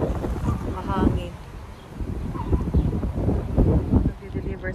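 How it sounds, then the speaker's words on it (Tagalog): Outdoor wind on a mild summer day in Chicago, buffeting the microphone with a steady low rumble that swells and eases over a few seconds, with faint background sounds and a voice mixed in. "Mahangin."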